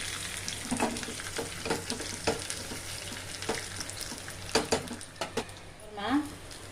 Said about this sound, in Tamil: பூண்டு செவக்கட்டன் போட்டிங்கன்னா நல்லா செவக்கணும்